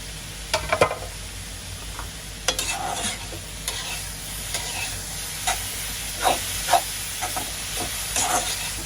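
Spiced food with turmeric powder stirred and frying in a pan, with a steady soft sizzle and a run of scraping spoon strokes spaced through the clip, close and fairly clear.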